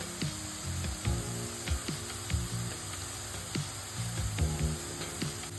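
Onions with thinly sliced curry leaves fry in a pan, giving a soft, faint sizzle with scattered scraping taps of a spatula, alone without voices.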